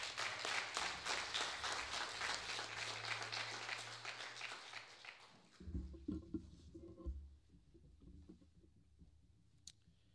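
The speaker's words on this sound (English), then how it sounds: "Let's give them one last round of applause." A school audience claps at an end-of-year presentation, a steady, fairly faint patter of applause for several seconds that stops abruptly, followed by quiet room noise and a low voice.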